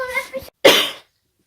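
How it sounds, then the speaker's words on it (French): A woman coughs indoors with the flu, a couple of short, close, harsh bursts after brief indistinct talk, then silence. "je tousse encore"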